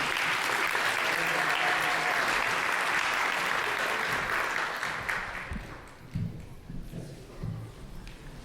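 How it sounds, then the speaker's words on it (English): Audience applause at an all-candidates municipal election debate in Innisfil, a loud steady clapping crowd that fades away over several seconds, leaving quieter room noise and faint murmurs. "And absolutely, clap."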